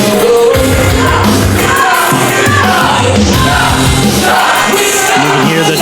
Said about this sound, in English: You can hear the chop chants echoing here in the building.